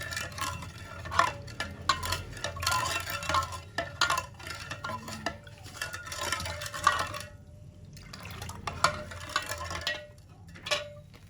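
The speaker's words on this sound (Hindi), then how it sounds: "अब इसको हम अच्छे से मिक्स कर लेंगे।" A spoon stirs a sabudana sharbat mixture with nauras syrup, giving repeated sharp clinks against the container and soft liquid swishes in uneven bursts, close by with brief pauses.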